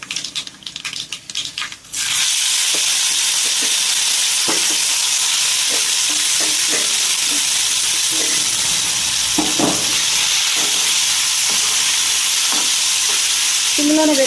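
Tempering with asafoetida frying in hot oil for a mango skin pickle, a loud continuous sizzle that bursts up after a quieter opening with a few clinks, then crackles steadily with small pops and stirring knocks.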